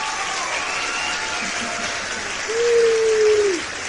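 Steady applause from a small group runs throughout at moderate loudness, joined near the end by a single drawn-out, high 'woo' cheer that rises above the clapping before fading.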